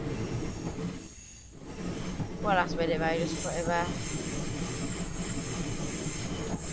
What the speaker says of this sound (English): The train's just overtaking us.